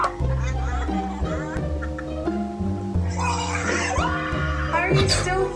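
A bird, likely a turkey, gobbles and calls loudly and close in repeated bursts, with voices talking over it throughout.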